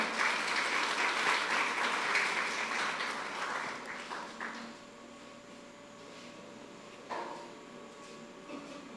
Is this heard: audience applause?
yes